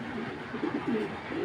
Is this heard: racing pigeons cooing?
yes